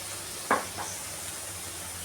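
Vegetables and paneer sauté in a pan for healthy Chinese fried rice with a steady, close sizzle. A couple of brief spatula scrapes cut through it, and no one talks.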